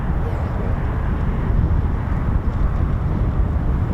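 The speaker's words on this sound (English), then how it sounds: "I can actually hear those engines running now." C-17 Globemaster engines running at RAF Lakenheath, a steady, loud, broad roar that holds constant throughout the short stretch, heard from a distance outdoors.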